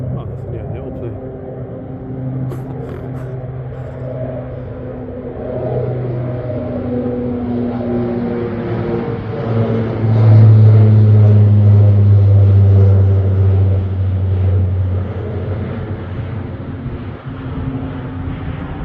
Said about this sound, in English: any moment a plane could be taken off from London City Airport because this is right in this flight path